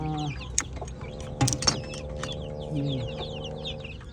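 Chickens cluck and murmur close by, with a few sharp clicks and knocks and a low hum in the background.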